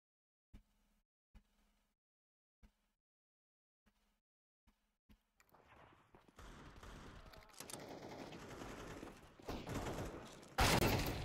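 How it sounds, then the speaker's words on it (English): Counter-Strike 2 deathmatch gunfire: a few isolated, quiet shots early, then dense bursts of automatic fire and loud close shots building toward the end. "Here in deathmatch, just shoot everybody."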